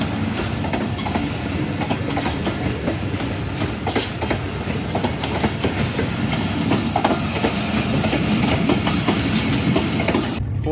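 Train 4554 passes through Badamibagh railway station at high speed, a loud continuous roar with rapid clickety-clack of wheels over rail joints that carries on throughout and cuts off abruptly at the end.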